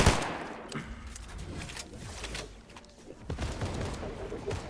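Rapid bursts of gunfire in the Fortnite battle royale game, dense overlapping shots and booms rolling continuously at moderate loudness, easing briefly before a heavier burst near the end.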